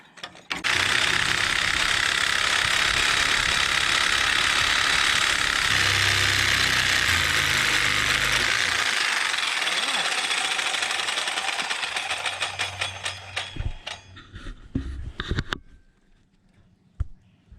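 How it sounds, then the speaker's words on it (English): A reciprocating saw cuts through the welds on the axle of a 1940s Chevy trailer, a loud, steady, buzzing motor roar lasting about fourteen seconds before it winds down, followed by a few sharp metallic knocks. "So now we're going to try and use the sawzall to take out these welds."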